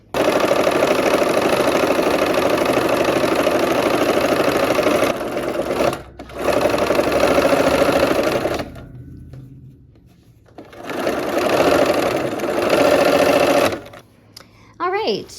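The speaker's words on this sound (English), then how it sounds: "we'll line these up and sew that seam" A sewing machine stitching a quilt seam runs loud and close in long steady bursts, stopping briefly twice before a short final run, with a voice talking in the gaps.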